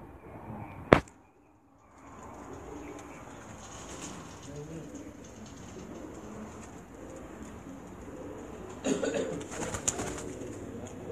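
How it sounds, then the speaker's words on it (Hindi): Male racing pigeons that flew in Punjab's 2017 Asuj competitions coo steadily in a Gujranwala loft, soft and continuous under low background hiss, with a sharp knock near the start and a busier stretch of calls toward the end. "ये जो कबूतर अभी आप देख रहे हैं, ये तमाम नर कबूतर हैं"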